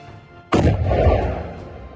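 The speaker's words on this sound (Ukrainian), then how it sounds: "Вибух!" A single sudden, loud blast from a controlled detonation of ordnance at a disposal range bursts in with a deep rumbling body that rolls on and slowly fades out, with no voices.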